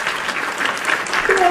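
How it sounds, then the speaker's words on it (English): Audience applause following a lightning talk, a short burst of dense, even clapping from a crowd, fairly loud and close, with a bit of voice over the end. "Gotta have some applause."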